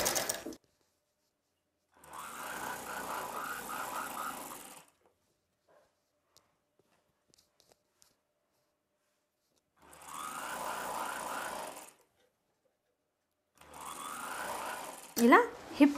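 A sewing machine stitches an umbrella dress in three separate bursts of steady whirring, each lasting a couple of seconds, with quiet gaps between them.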